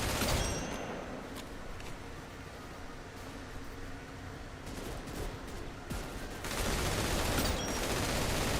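Gunfire from a hard-recoiling gun in a Roblox shooter crackles in fairly quiet, rapid clusters of sharp shots over a hissing background, with a denser, louder burst near the end.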